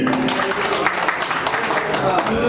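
An audience claps at an association general body meeting, a steady patter of applause filling the room, with a voice speaking over it in the background.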